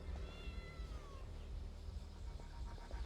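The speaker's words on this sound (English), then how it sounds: "Oh, it's just a little cat." A small cat near a shrine in the video game Genshin Impact gives one drawn-out, faint meow that trails downward, set over a constant low ambient rumble.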